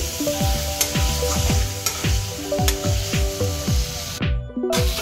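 Fried potato pieces sauté in spice paste over a raised gas flame, with a steady sizzle and rhythmic stirring scrapes, while tonal musical notes sound over the cooking and drop out briefly near the end.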